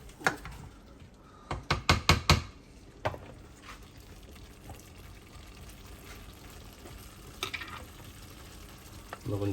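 Honey chicken is stirred and mixed in a pan over a low, steady sizzle, with a quick burst of loud utensil knocks against the pan early on and softer scraping afterward, no talk.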